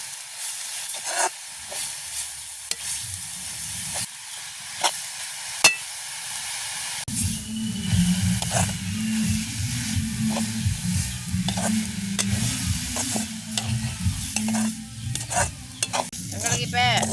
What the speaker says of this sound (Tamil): அந்த நீர்த்தன்மை போகும் வரைக்கும் நாங்கள் நல்லா வறுக்கணும்